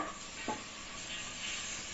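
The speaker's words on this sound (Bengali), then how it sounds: "নেড়ে চেড়ে গাজর সহ পেঁয়াজ আরো একটু হালকা করে ভেজে নিব" Chopped onion and carrot stirring and frying in hot oil in a pan for Chinese-style Maggi noodles, a steady soft sizzle with one brief scrape of the spatula, no talk.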